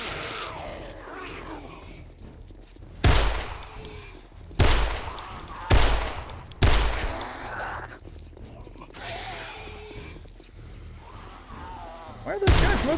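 Gunfire in 7 Days to Die: about six loud, separate shots spaced a second or two apart, with quiet game noises and faint breathing between them.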